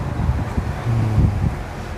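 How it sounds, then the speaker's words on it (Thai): Strong wind blows outdoors beside a stream, buffeting the microphone with a loud, uneven low rumble that swells and fades over a couple of seconds, with no talking. "มื้อนี้ลมเนาะลมคัก"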